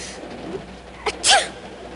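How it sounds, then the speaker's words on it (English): A sudden sneeze from a cartoon child who is cold inside a car in the animated Frosty the Snowman: one sharp, bright burst with a small catch of breath just before it, against quiet background. "You wouldn't be sneezing if you weren't cold."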